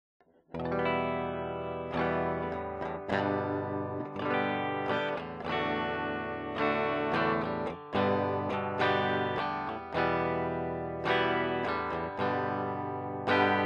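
A Westone Raider electric guitar plays continuously through Digitech RP255 multi-effects presets, with chorus, echo and distorted tones shaping a steady stream of chords and picked notes, loud and close with no talking.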